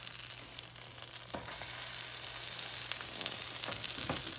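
A jalapeño popper grilled cheese sandwich with bacon toasts in a buttered pan, giving a soft, even sizzle with a few faint clicks and scrapes.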